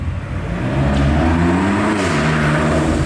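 Heavy German cars roll past at a car meet in the rainy season, a loud, close engine drone with rising and falling revs and a deep low rumble that stays continuous throughout.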